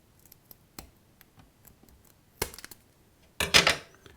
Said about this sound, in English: So what you need to do is cut off this wire right at the edge of this thread here, and also cut off the wick at the same length.